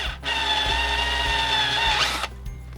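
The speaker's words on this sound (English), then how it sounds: "so now we're going to drill a hole, which of course is necessary to allow the fluid to flow" A power drill runs steadily for about two seconds, boring a hole through a saddle fitting on a sprinkler system pipe, loud and close, with a rising whine near the end before it stops.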